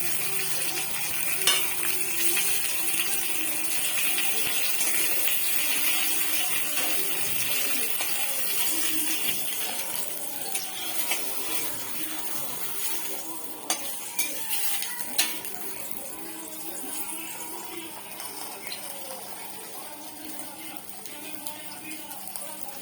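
Mango pieces fry in hot oil for mango morobba, with a steady sizzle while a utensil stirs and scrapes the pan with occasional sharper clinks.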